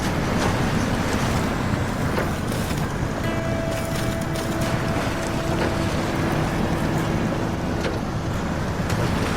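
A Pacific P16V truck in the Snowrunner video game plows along in first gear under load, a steady low engine drone with faint whine tones over constant wind-like rumble, no talk.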